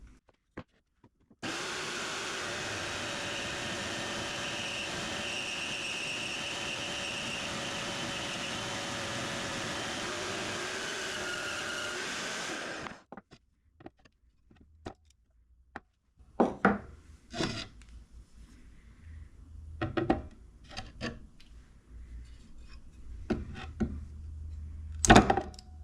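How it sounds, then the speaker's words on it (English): Bandsaw cuts a metal bar with a steady, close grinding whir for about eleven seconds, then stops, followed by scattered clunks and handling knocks. "Let's get this over here on the bandsaw and cut that down."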